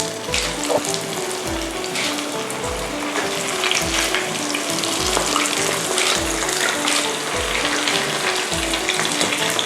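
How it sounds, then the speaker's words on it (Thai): Parcels of thung thong dough deep-fry in a pot of hot oil, a dense, continuous bubbling sizzle heard up close and steady throughout, with no voices over it. "อย่างนี้เราก็จะต้องนำมาทอดนะคะ คุณผู้ชมนะคะ ตั้งน้ำมันไว้ให้เดือดนะคะ"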